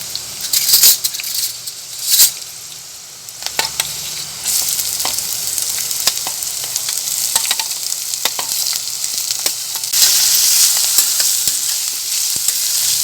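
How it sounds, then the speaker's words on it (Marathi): Chopped onion sautéing in a pan over a low flame for bhakri chivda, a steady close sizzle with scattered stirring clinks and scrapes throughout, no talking. "बारीक गॅसवरती गुलाबी होईपर्यंत आपण कांदा परतून घेऊ।"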